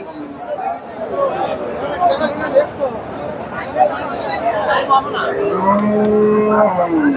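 A Friesian cross cow lets out a long, low moo near the end, amid a busy outdoor cattle market crowd with people chattering nearby.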